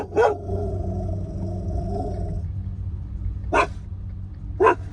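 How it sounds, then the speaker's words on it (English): A puppy gives a few short, sharp yaps over a low constant hum, with a faint growl early on, then two isolated barks near the end, fairly close. "Pepper, there's a puppy."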